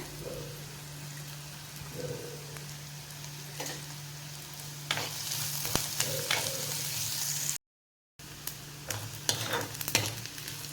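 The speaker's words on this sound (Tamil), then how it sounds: "வெங்காயம் நல்லா பொன்னிறமாக வதங்கிடுது" Onion and ginger sautéing in a pan for a spicy potato stir-fry: a faint, soft sizzle under a steady low hum, with occasional stirring clatters that grow busier midway and a brief silent gap.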